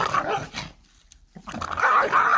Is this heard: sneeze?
no